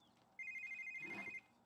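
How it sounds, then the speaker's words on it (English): A phone rings in The Sims 3 life-simulation game, a single steady electronic ring lasting about a second, clear and alone over a quiet background. "Miss Dietrich needs to answer her phone."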